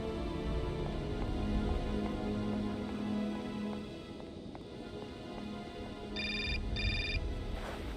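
In the video game Syberia, a phone ringtone chirps in two short bursts near the end, over a steady bed of game music and background noise.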